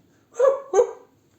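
A dog gives two short, sharp barks in quick succession, close and clear against near silence.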